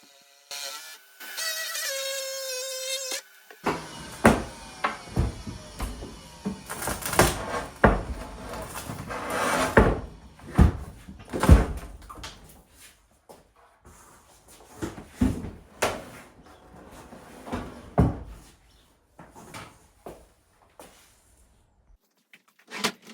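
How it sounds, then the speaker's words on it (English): Old kitchen cupboard doors, drawers and shelves are pulled out and taken apart during a kitchen rip-out. Repeated clattering knocks, bangs and wooden scrapes come in uneven bursts, fairly close, after a few seconds of faint electronic tones. "Removing more doors, drawers and shelves."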